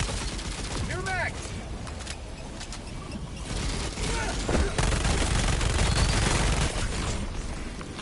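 Rapid gunfire bursts crackle nearly nonstop against overseers in an online shooter video game, loud and dense with brief metallic pings and low rumble underneath.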